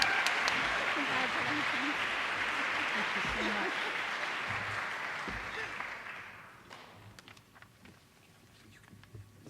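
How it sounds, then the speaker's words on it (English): An audience at a women-in-business awards event applauds warmly for about six seconds, then the clapping thins and fades to scattered claps and room noise. "You can clap again for her"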